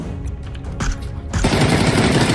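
Automatic gunfire in the battle royale game PUBG, a rapid burst of shots that builds into louder sustained firing close up, with no talking over it.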